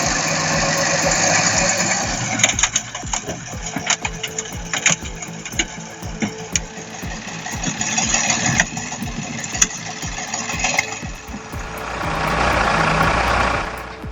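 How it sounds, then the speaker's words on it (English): A six-cylinder diesel engine on an Allis-Chalmers heavy machine runs loud and close, a steady, dense mechanical drone with small rattles, swelling slightly toward the end, with no voices. "Impressive work by that six-cylinder diesel engine on the Alice Chalmers."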